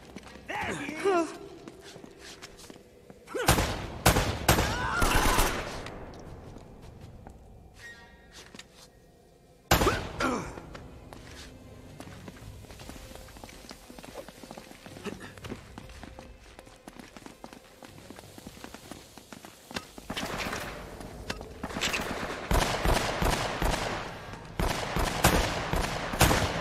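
Gunfire in the video game Uncharted: Drake's Fortune, scattered bursts of shots and firefight effects over game ambience and movement sounds, loud clusters around the middle and end, with brief character voices.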